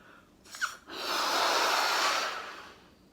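A balloon blown up by mouth for a stress ball: a short breath and snort of inhale, then one long, steady, breathy rush of exhaled air that swells and fades, close by.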